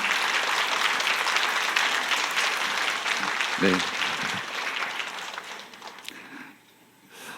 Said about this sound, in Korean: 우리 박수로 좀 격려하면 좋겠습니다